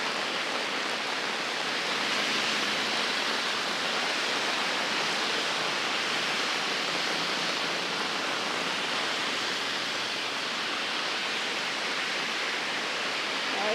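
Heavy rain pours steadily in Geylang, Singapore, in March, a dense unbroken hiss that stays loud and even throughout with no talk.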